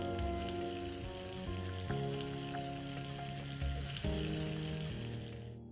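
Cumin seeds and chopped green chillies sizzle in hot ghee, a steady fizzing crackle running the whole time beneath louder tonal background music, with no talking.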